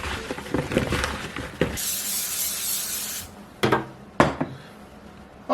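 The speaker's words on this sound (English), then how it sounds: "Okay, so I sprayed that tray with some spray oil." Spray oil hisses onto a baking tray in a couple of short bursts, followed by a longer steady spray, then a few sharp clatters as the can and tray are handled.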